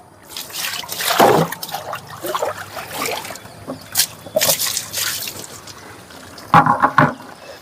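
Water is poured and splashed over something outdoors in uneven bursts of trickling and gushing, with a louder splash near the end. It is close and moderately loud, with no speech.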